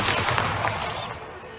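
A Bombarda explosion spell in the video game Hogwarts Legacy, a loud, broad, close blast that decays over more than a second with a rumbling tail.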